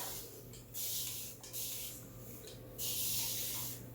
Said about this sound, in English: I spray it on my hair like this.